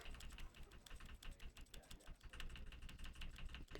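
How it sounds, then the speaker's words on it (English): Computer keyboard keys are tapped in quick, steady succession while game settings sliders are adjusted in The Stanley Parable: Ultra Deluxe, the clicks close but quiet, with no talking. "Maybe I should just move my mic closer to my keyboard so you can hear every tap as I adjust the slider"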